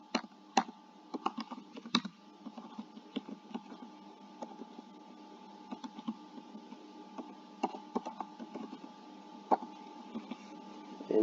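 A SAS program is typed on a computer keyboard in a steady stream of light, close clicking keystrokes with small irregular pauses, running under a faint constant hum.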